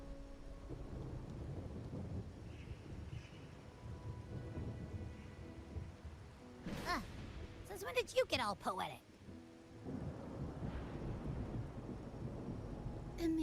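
A stormy scene in the Wuthering Waves video game, with steady rain noise and a rumbling crack of thunder, while characters speak over it.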